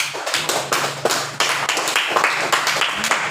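Students in a classroom clap together in a quick, loose rhythm of sharp, close hand claps, with a few louder bursts standing out over a short stretch.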